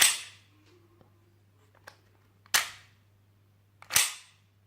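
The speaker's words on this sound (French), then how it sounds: "on arme en arrière, la culasse bouge" Slide of a Glock 18C replica pistol racked back, giving three sharp metallic snaps spaced over a few seconds, loud and close, with faint clicks and a low steady hum between them.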